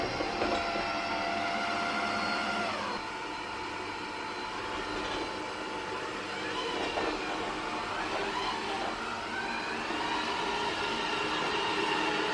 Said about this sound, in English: here is the Yui X10 in action and mopping and hoovering my floor